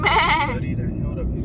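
A person's voice imitates a goat's bleat, giving one short, loud, wavering call close up.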